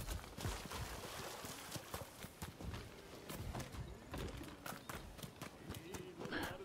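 A horse galloping in the video game Rise of the Ronin, with quick, rhythmic hoof clops repeating steadily under a faint background.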